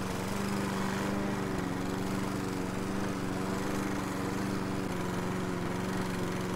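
A lawnmower engine in a video game drones steadily at close range, a constant buzzing hum with no break or change in pitch.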